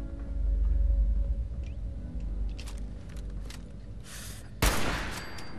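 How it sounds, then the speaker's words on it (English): Gunshots ring out in Fallout 4 inside an unfinished vault, a few sharp reports over a low rumbling backdrop, ending in one loud close blast near the end. "What was that? It's gunshots."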